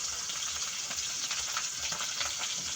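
Dried fish (daing) frying in hot oil, a steady close sizzle and crackle that runs without pause.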